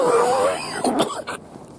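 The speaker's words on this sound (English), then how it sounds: "still got a cough though" A raspy, croaky throat sound followed by a couple of short coughs, close to the microphone, with a slight moaning tone at the start.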